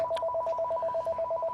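A telephone ringing in a podcast studio: a steady electronic trill pulsing rapidly and evenly, moderately loud and close, with no talk over it.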